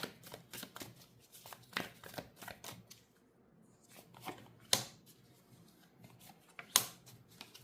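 A deck of tarot cards being shuffled by hand, with soft riffling and sharp snapping card slaps in irregular bursts, close and fairly quiet, with no voices.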